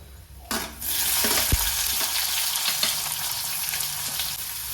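Onions and green chilies frying in hot oil in a pan, an abrupt loud sizzle that swells as they hit the oil and then holds steady with occasional stirring clinks, close and alone.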